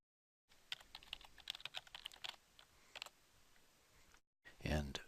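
Rapid close keystrokes on a computer keyboard as a password is typed, an irregular burst of clicks followed by a brief pause and a louder final thump.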